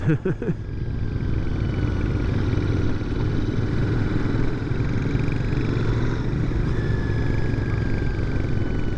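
2021 Royal Enfield Continental GT 650 motorcycle on the move: a loud, steady engine drone with wind rush, held at a fairly constant pitch and close to the rider throughout.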